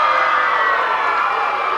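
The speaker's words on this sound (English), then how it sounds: "Boy, the crowd's excited tonight." A high school basketball crowd in an arena during an area championship game between Dothan and Northview: a loud, dense roar of cheering and shouting that holds steady throughout.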